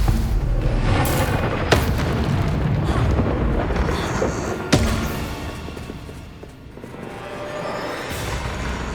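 Stupefy spells in Hogwarts Legacy hit in a string of heavy booms and thuds, two sharp impacts standing out over a dense, rumbling combat din.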